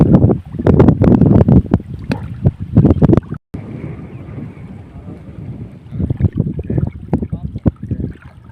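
Strong wind buffets the microphone in loud, irregular gusts by a lake, easing briefly in the middle before roaring again, with a voice talking quietly beneath.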